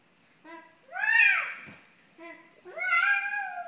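A young child imitates a cat meow twice, each a drawn-out, rising and falling mew preceded by a short babble, close and fairly soft, as part of an animal-sounds game.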